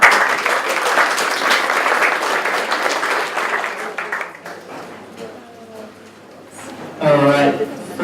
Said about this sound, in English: So can I have a big round of applause for Max from Max Guardian.